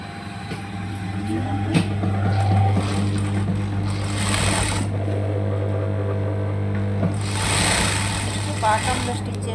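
A sewing machine stitches the lining at the bottom of a blouse or bag, a steady close motor hum running throughout while someone speaks in Telugu over it.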